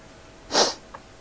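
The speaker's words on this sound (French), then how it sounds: "Vous voyez, je vais éternuer." A single sharp sneeze bursts out mid-clip, close and loud, followed by a brief faint sniff, with no talking around it.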